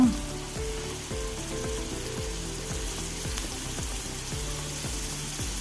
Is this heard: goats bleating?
no